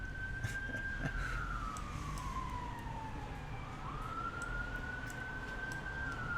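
An emergency vehicle siren wails, sweeping down and back up in pitch over steady traffic rumble, moderately distant.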